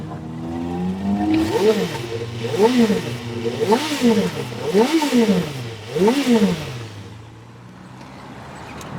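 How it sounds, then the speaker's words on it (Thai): A 2016 Honda CB650F motorcycle with about 24,000 km, engine idling and then revved five times in quick succession, each rev rising and falling, loud and close, settling back to idle at the end. "ฟังเสียงเครื่องหน่อย"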